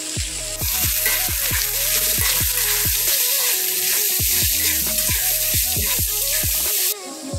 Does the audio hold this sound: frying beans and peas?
yes